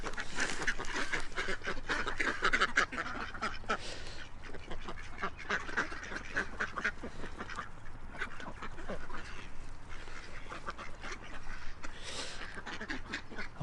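Ducks quacking on a river, a busy flock giving repeated overlapping quacks and honk-like calls at moderate distance, steady and continuous with faint outdoor background.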